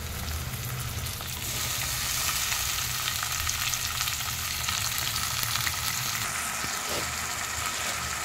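Tomatoes fry together with drumstick pieces in a pan of oil, a steady close hissing sizzle that grows slightly louder after the first second and continues evenly without speech.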